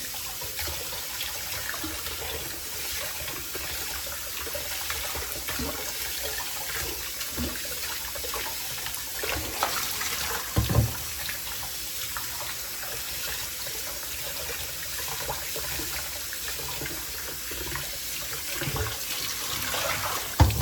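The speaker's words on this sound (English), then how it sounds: "And I rinse it until the water runs clean." Running tap water flows steadily for a long stretch, with soft splashes and occasional sloshing bumps as rice is rinsed underneath.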